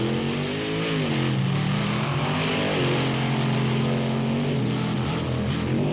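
Ford monster trucks racing on a sand beach track, their engines roaring loud and steady with rising and falling revs throughout.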